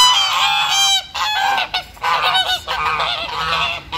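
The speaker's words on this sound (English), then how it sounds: "Those are ducks." A flock of waterfowl at a zoo in Abuja calls continuously, loud, nasal honking and quacking overlapping in dense bursts with brief gaps, close by and without talk.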